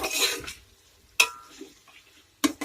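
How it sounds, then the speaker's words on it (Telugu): A spatula clanks and scrapes against a pan while cleaned prawns are stirred and fried for a prawn pulao, giving three short metallic bursts over a faint sizzle. "శుభ్రం చేసుకున్న రొయ్యలు కూడా వేసుకోవాలండి. వేసుకుని లైట్గా ఇలా కలుపుకుంటూ ఫ్రై చేసుకోవాలి"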